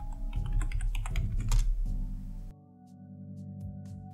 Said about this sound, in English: Enter, type your password.